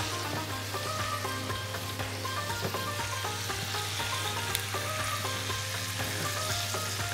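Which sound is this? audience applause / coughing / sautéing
sautéing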